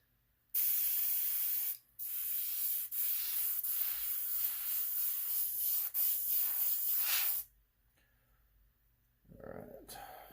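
An airbrush sprays paint thinned with reducer in a loud, steady close hiss lasting several seconds after a brief pause, then it cuts off and a voice briefly starts talking.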